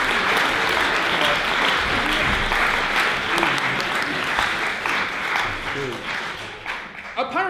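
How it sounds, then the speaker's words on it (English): A student comedy revue audience gives loud, sustained applause that tapers toward the end, with some voices and cheering mixed into the clapping. "Let's give a massive round of applause."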